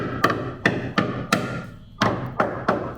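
Heavy thuds of pounding on metal parts of a 1982 air-cooled VW Vanagon Westfalia during transaxle removal, about eight blows at an uneven pace with brief pauses, close and fairly loud.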